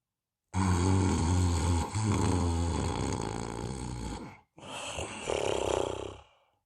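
A voice imitates loud, drawn-out snoring, a long rumbling inhale followed by a shorter second snore, close and forceful.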